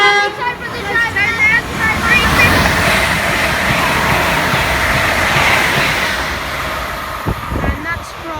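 A Class 350 electric train runs through Kings Langley station on the West Coast Main Line, a loud, sustained rolling rumble and rush with a toot of the horn near the start.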